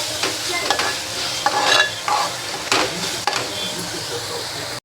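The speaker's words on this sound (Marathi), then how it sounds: "आता आपण मिक्स करून घेऊया आणि 5 मिनटं तसंच शिजायला मसाले चांगले शिजून घेऊया." Masala for veg pulao is stirred and cooked in a pan, with a close, bright sizzle broken by repeated scraping strokes of a spoon, and a voice talking over it.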